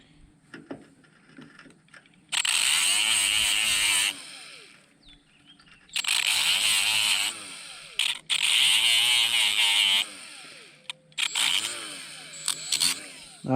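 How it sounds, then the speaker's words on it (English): Rust is sanded off the starter brush holders of a John Deere 430 diesel lawn tractor. The sanding comes in loud, steady bursts of a few seconds each, with quiet pauses between them. "Now it's not great to sand those down"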